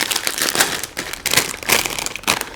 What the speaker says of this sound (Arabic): وبعد كده هنفتح كيس الشيبسي بالشطه